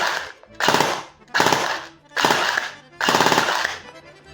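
Airsoft gun with an 11.1 V battery firing 0.32 g BBs in full-auto, four short bursts of rapid mechanical shots separated by brief pauses, loud and close.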